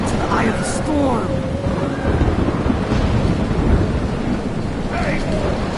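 A thunderstorm roars in the video game Life is Strange, with dense wind and rain noise, low rumbling throughout and faint distant cries rising now and then.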